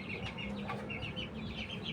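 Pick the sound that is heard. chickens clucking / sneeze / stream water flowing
chickens clucking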